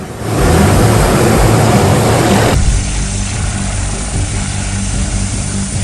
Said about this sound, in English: Ever seen a helicopter go ice skating before?